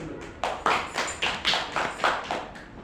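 Several sharp claps in an uneven rhythm, fairly close and moderately loud, with no voices over them.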